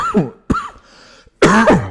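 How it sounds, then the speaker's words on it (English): Three harsh coughs in a row, close and loud with brief gaps between them and no speech, from a player during an online rapid chess game. "I'm really coughing a lot"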